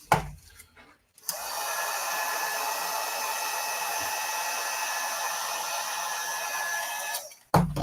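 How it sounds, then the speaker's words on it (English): A hot air gun blows a steady, close whooshing hiss for about six seconds while heating 1 millimeter fibers to bend them inside a Metal Gear Rex model, with handling clicks before and after. "as I heat these up, I can get them to continue to go exactly where I want them to."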